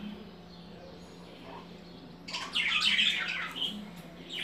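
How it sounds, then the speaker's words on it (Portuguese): Pet parakeets in a one-metre aviary burst into bright, busy chirping and warbling partway through, rising over a faint steady background hum; several birds call together up close. "Olha que fofo, eles estão cantando."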